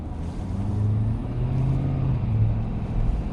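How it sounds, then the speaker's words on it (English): Engine of a 2020 Ford Super Duty truck accelerating onto a highway, a steady loud low rumble with a rising turbo whine layered over the drone throughout, no talk. "You still hear the turbo though."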